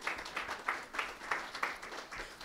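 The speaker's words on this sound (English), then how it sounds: "Go ahead and clap." Sparse, quiet clapping from a small audience, a handful of distinct claps in a slow, uneven rhythm, heard from a distance.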